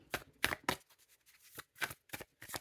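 Tarot cards are shuffled close by in quiet bursts, a run of crisp riffling flutters separated by short pauses.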